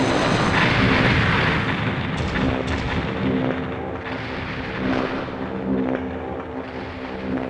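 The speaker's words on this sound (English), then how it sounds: "They urge us to be careful not to destroy any of the generators located there, as they would cause an explosion." Generators exploding in the Armored Core video game, a dense, sustained roar of blasts and rumbling booms. The explosions stay loud and continuous throughout, and no one talks.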